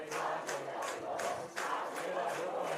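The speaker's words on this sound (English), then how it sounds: "the Snyder crowd starts to get loud on the home side here" Home-side crowd at a high school football game, Northrop at Snider, roaring loudly and steadily with rising swells of cheering throughout.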